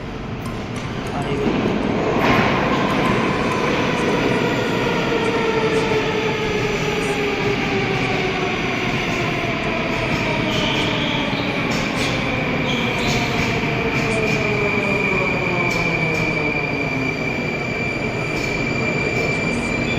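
A metro train in Russia runs steadily and loudly, with a continuous rumble, rising and falling wheel squeals, and faint clatter throughout.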